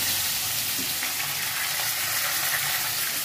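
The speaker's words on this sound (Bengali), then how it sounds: "এদিকে দেখতে পাচ্ছ মাছের মাথাটা ভেজে নিচ্ছি" A katla fish head fries in hot oil, giving a steady, dense, close sizzling hiss that continues without pause.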